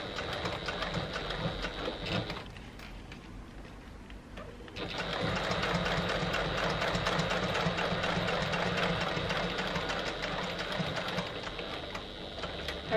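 A Janome HD9 sewing machine stitches fabric with a fast, steady mechanical whir. It runs for a couple of seconds, pauses briefly, then starts again and runs on loud and close.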